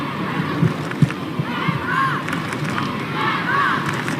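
A football crowd at GIO Stadium during a W-League semi-final between Canberra United and Melbourne City, a steady broad murmur of many spectators with scattered claps and shouts and faint whistles.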